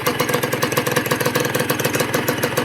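A Honda NSR150RR motorcycle engine runs at a loud, close, rapid idle with a rhythmic two-stroke pulse and slight clatter, a few mild rises in revs, no talking.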